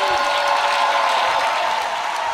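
A church congregation at a testimony service breaks into loud, sustained applause, dense clapping filling the room evenly from start to finish with no talk over it.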